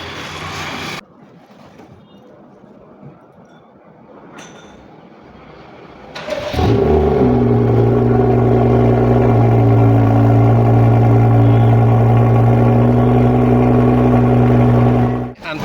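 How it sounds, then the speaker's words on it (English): BMW F30 with a modified exhaust cold-starting: after quiet ambient, the engine cranks and catches around six seconds in, then settles into a loud, steady, deep drone close by, with no talking. "on the exhaust, I am going to do a cold start now"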